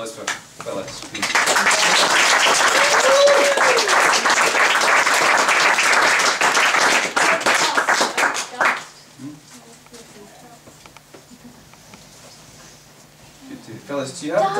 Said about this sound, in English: A round of applause for Phyllis, please.